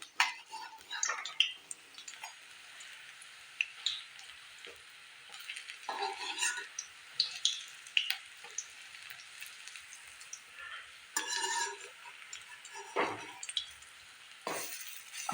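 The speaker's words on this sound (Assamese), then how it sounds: "এইদৰে মই গোটেই পকৰিকেইটা এইদৰে ওলটাই দি দিম।" Gram flour pakoras frying in hot oil, a soft continuous sizzle broken by spatters, bubbling bursts and scraping clinks as the fritters are turned, fairly quiet and close.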